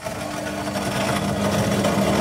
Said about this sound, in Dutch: En hier zit een schakel voor die ventilator.